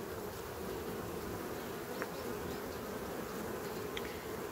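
A steady drone of honey bees comes from a honey-filled hive frame in a colony preparing for winter. The thick, continuous buzz sounds close, with a few individual bees whining past.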